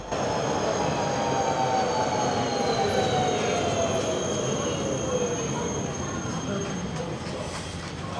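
A Prague Škoda 14T tram, number 9170, runs along the track with a steady rolling rumble, drawn-out wheel squeal and gliding motor whine, loud and close throughout.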